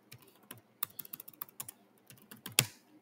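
A computer keyboard being typed on, with quick irregular key clicks close by, ending in one louder keystroke, with no voices.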